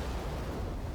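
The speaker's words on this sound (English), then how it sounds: "Alright, Soul Bomb goes off." Soul Bomb special attack detonating in Bleach: Brave Souls, a brief dense low rumbling blast that fills the whole moment loudly, with no voices.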